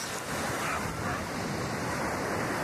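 Stormy sea waves pound the beach at Scalea in Calabria, a loud, continuous surf roar with wind noise rushing across the microphone and no talking.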